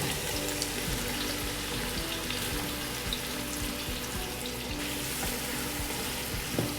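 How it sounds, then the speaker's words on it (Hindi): Onions fry in hot oil for Old Delhi-style nihari, giving a steady, close, even sizzle with light stirring and a faint watery hiss throughout, with no talking. "और प्याज को तलकर इसे ब्राउन करना है"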